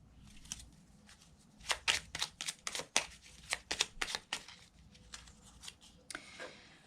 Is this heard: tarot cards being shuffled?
yes